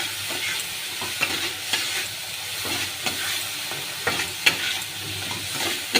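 Spices for a tangra fish curry sautéing in a pan with a splash of water, a steady close sizzle broken by repeated scraping stirs of a spatula, no speech.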